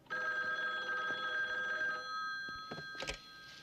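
A telephone rings with a steady electronic trill, one sustained ring followed by a shorter burst, slightly muffled as if heard down a line.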